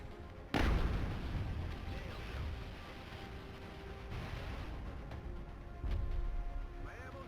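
A single sharp shot rings out loudly in the turn-based strategy game XCOM: Enemy Within, followed by a rumbling tail that lingers, with a second softer boom near the end.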